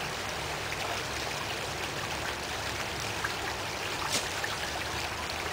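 A creek flows with a steady, even rush and trickle of water, close and constant, with a few faint splashes and no talk.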